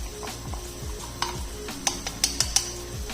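Milk simmering in a pot with ground almond, cashew and cardamom powder stirred in for kulfi, a soft steady bubbling hiss under a series of light spoon clinks and scrapes against the pot, no talking.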